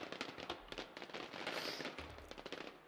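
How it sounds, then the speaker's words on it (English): Firework bursts in a multiplayer robot video game, a rapid run of sharp crackling pops and bangs over about three seconds, loud and close with a low rumble beneath. "That wasn't a flare. That was a firework."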